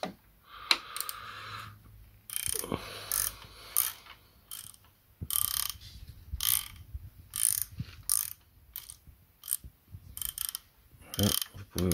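A ratchet and socket working on the timing chain tensioner of a Mercedes OM 640 engine, with repeated clicking ratchet strokes in bursts, loud and close, with metallic rattles and short pauses between them.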